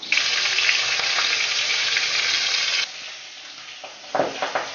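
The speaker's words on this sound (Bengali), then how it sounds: "তো একে একে আমরা মাছের মাথাগুলো ভেজে নেব।" Fish heads fry in hot oil with a dense, steady sizzle that drops abruptly to a softer hiss partway through, followed by a few brief louder spatters near the end; no voices.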